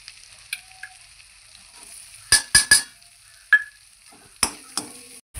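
Chopped onion added to hot oil with curry-leaf tempering in a pan for pav bhaji, giving a few sharp sizzling bursts and clatters close up, with quieter frying hiss between them and no talking.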